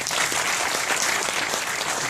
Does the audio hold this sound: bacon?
no